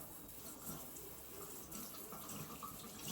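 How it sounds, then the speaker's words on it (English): Tap water runs steadily into a sink while a kitchen knife is washed beneath it, a faint, continuous splashing stream with no talk. "I'm going to wash my knife."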